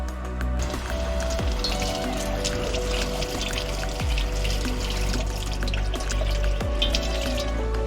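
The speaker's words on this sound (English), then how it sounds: "All you gotta do is dip it in some water." Water splashes and trickles steadily as a cooling ice towel is dipped and sloshed, a continuous close wet wash with small drips throughout and no talking.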